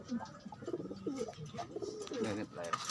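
Pigeons coo softly in a series of low, burbling calls, fairly close but quiet, with faint background noise and brief human voice sounds mixed in.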